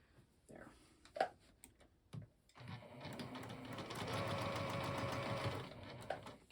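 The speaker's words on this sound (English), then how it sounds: "sew across that line" A sewing machine stitches across a quilt block for a snowflake pattern in a steady, fast whirring run of a few seconds, following a few soft handling clicks and light taps near the start.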